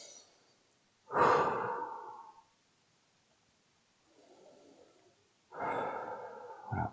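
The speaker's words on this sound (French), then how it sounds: "de prendre une première et profonde inspiration" A person takes a slow, deep breath in and out, close to the mic, with a long airy inhale, a quiet pause with a soft exhale, then another strong breath.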